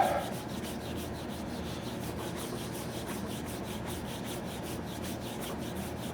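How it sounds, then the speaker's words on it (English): A tiny amount of finish being rubbed by hand into the wooden stock of a Lyman Great Plains muzzleloader rifle kit, a steady, close, continuous friction hiss with no pauses and no talk. "What I want to do is get just a tiny bit and really get that rubbed."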